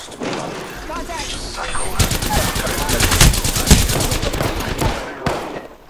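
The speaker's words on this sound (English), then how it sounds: "I'm spotted, taking fire." Rapid automatic gunfire in the Apex Legends battle royale game crackles loud and dense, with bursts building into continuous rattling and a few heavier shots, while a voice speaks over the action.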